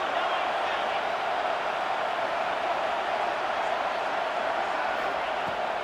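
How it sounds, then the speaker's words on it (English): A stadium crowd in the EA College Football 26 video game keeps up a broad, steady roar, dense and unbroken throughout without rising or fading. "The roar of the crowd trying to fuel this defense to keep them pinned in their own end."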